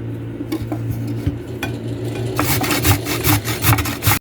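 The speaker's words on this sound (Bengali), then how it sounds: "গাজরটাকে আমি একেবারে মিহি কুচি করে নিলাম" A carrot being finely chopped for a salad, a series of close, rapid knife taps and scraping rubs on a cutting board, quicker and denser in the second half.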